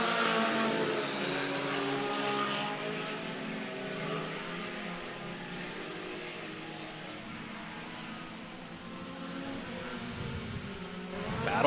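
Modified race cars roar around the Clay County Speedway dirt track in Iowa, a dense, sustained engine drone from several cars that swells slightly near the end, with no pauses.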